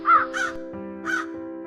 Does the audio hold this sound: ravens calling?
yes